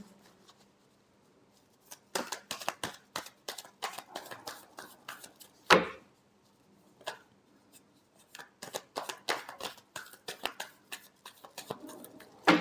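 Tarot cards being shuffled by hand, in quick bursts of riffling and flicking with short pauses between, close and fairly crisp, with no talk over it.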